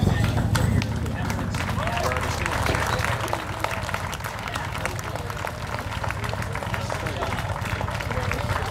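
An indoor crowd at a charity ride event applauds champions with sustained, dense clapping and cheering that holds steady throughout, while a voice is faintly audible underneath.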